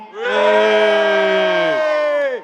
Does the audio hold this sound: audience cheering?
yes